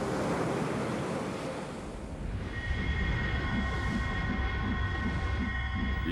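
Ocean waves surge in a steady, loud wash of surf that holds throughout, with sustained tonal notes rising over the rumble in the second half.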